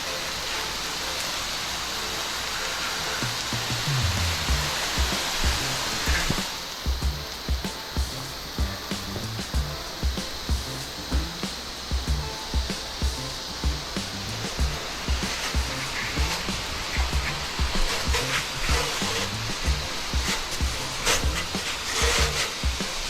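A pressure washer's water spray rinses a roof during roof cleaning, a loud, steady broadband hiss with rhythmic surges as the stream sweeps across the surface, close and continuous throughout with no talking.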